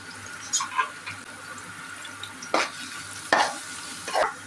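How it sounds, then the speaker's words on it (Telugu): Two finely chopped red onions sautéing in a pan, a soft low sizzle with a few sharp scraping stirs and clinks standing out at intervals. "ఇప్పుడు సన్నగా తరిగిన 2 ఎర్రగడ్డలు వేసి బాగా వాడ్చుకోవాలి."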